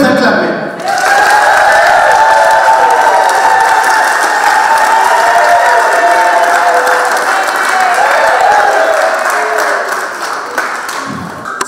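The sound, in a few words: wedding guests applauding and cheering the couple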